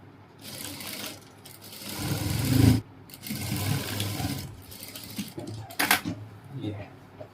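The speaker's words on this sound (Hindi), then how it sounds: "अब यहाँ से हम लाइनिंग से स्टार्ट करते हैं सिलाई मारना।" An electric sewing machine stitching the lining of a ladies' coat, running in several bursts of rapid mechanical whirring with short pauses between them, close by, with some speech.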